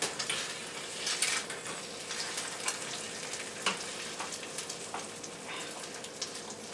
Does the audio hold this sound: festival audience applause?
no